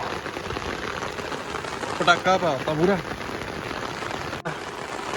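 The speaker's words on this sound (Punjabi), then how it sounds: "ਲੋ ਮੀਂਹ ਨੇ ਯਾਰ ਨਜ਼ਾਰਾ ਲਿਆਤਾ ਉਦਾਂ ਜਿੱਦਾਂ ਮਰਜੀ ਹੈ ਪਹਿਲੀ ਬਰਸਾਤ" A steady hiss of rain pours down during the season's first downpour, a constant wash of drops on surfaces; someone speaks briefly over it midway.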